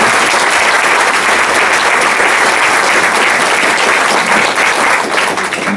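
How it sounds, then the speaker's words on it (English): Dense, steady audience applause fills a candidate forum hall on climate change, loud and sustained throughout with no break or talk. "Here's a good chance to get a round of applause"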